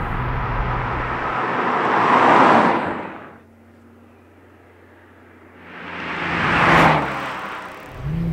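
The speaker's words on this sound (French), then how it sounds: "Voilà, je freine avant la courbe, je préfère arriver un peu moins vite et véritablement asseoir l'auto" A Renault Clio V6 phase 1 engine note swells and fades as the car slows for a curve, with a loud roaring pass, a quiet lull, then a second rising surge of engine and road noise.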